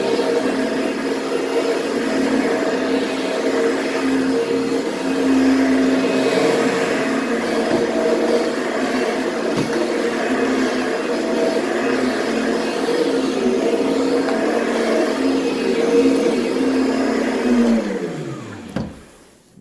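A Kirby vacuum cleaner runs steadily on residential carpet, a loud continuous motor drone with a constant pitch that holds for most of the time, then winds down sharply as it shuts off at the end.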